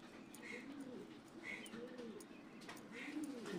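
A female pigeon coos softly nearby, with a few low, rolling coo phrases repeating at an even pace over faint background noise.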